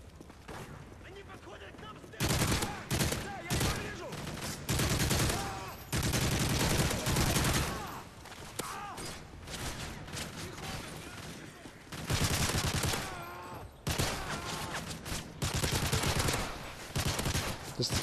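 Gunfire in Call of Duty: Modern Warfare 3 Survival mode, heard as bursts of rapid shots in several clusters, loud and close, mixed with game effects and someone talking over parts of it.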